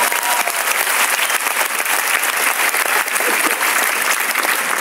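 Audience at a comedy show applauding, loud dense clapping that runs steadily through the whole stretch without pause.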